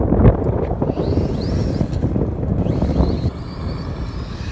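A Holy Stone X400 quadcopter drone flying outdoors in strong wind, its rotors giving a high buzzing whine with rising and falling pitch under loud gusty wind buffeting the microphone.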